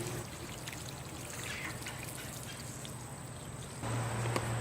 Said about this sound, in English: let's give it some water